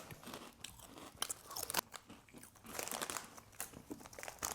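Finnish potato crisps eaten close to the mic during a taste test, giving repeated crisp crunches and bites mixed with bag crinkling, in an irregular rhythm without talk.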